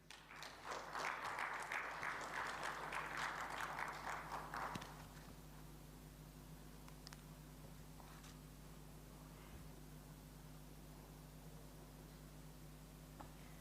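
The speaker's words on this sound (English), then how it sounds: "Another round of applause for the Honorable Minister for launching this event and this mechanism" Audience applause for the Honorable Minister at the launch of a green cooling financing mechanism in Kigali, Rwanda: a dense burst of clapping for about five seconds that stops abruptly, leaving a quiet hall with a low steady hum.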